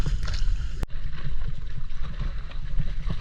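A kayak paddling across Twin Lagoon in Coron, Philippines: close splashes and water swishing against the hull, with gusts of wind and one sharp knock near the start.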